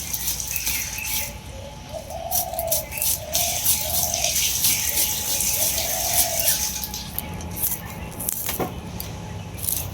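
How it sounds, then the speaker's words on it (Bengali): A dove calls in a series of soft, repeated hooting coos at moderate distance, set against steady outdoor background noise. "কি সুন্দর ঘুঘু পাখির ডাক"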